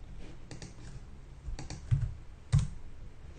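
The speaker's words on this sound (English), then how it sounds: "Maybe I can just type it in" Quiet keystrokes tap on a computer keyboard, a few scattered clicks with two slightly heavier presses near the end, close by over a low background hum.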